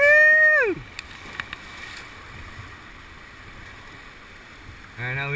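Kayak paddle strokes churn through river water in a steady wash of splashes with a few sharper dips, while a voice calls out at the start and again at the end.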